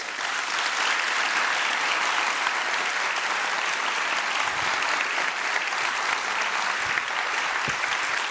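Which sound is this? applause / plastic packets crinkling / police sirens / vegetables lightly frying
applause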